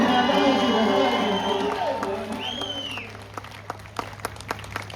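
Audience applause and cheering at a Marathi stage performance, with scattered sharp claps rising as a sung voice fades out, then continuing as sparse, crisp claps toward the end.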